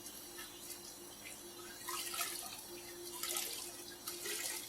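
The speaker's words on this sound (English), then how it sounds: "I'm going to soak this fabric completely." Fabric is soaked in a bucket of water: steady running, splashing water with brief louder sloshing bursts, close by and moderately quiet, with no talking.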